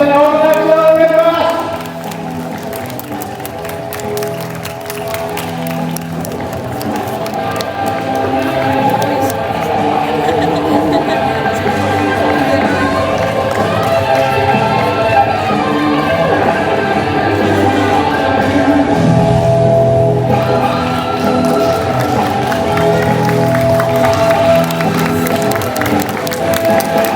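Sustained audience applause in a pro wrestling hall after a 100-meter match, ahead of a Mojo Kong semifinal singles bout; a broad, continuous wash of clapping and crowd noise under steady music, lasting throughout.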